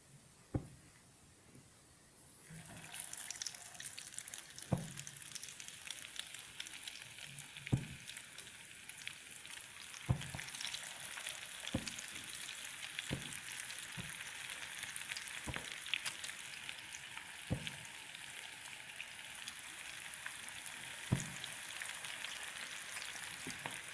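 Chicken veg sticks deep-fry in hot oil with a steady, dense crackling sizzle that swells after a few seconds, punctuated by periodic light taps and knocks.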